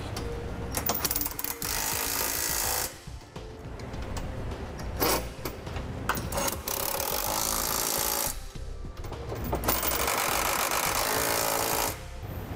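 A power tool runs in long, steady buzzing bursts as it snugs down the fasteners of a Draw-Tite trailer hitch receiver on a 2007 Subaru. The bursts are close and loud, with short pauses between them.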